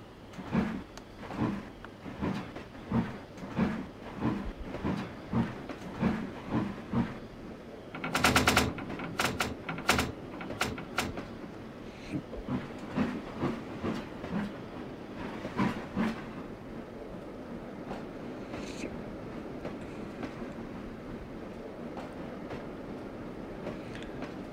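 A train in the Trainz driver simulator runs through a tunnel, steady rhythmic wheel clatter and rumble with a burst of sharp clanks partway through, then a smoother continuous roll.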